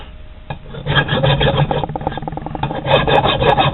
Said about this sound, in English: just take the file, scrape it across